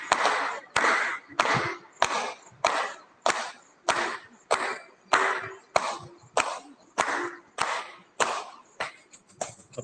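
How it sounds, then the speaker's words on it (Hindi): A yoga group claps hands together in unison about fifteen times, each sharp clap crisp and evenly spaced in a steady rhythm, close and fairly loud, with no talking. "अब अपन अभिवादन के लिए ताली बजा लेते हैं 15 बार"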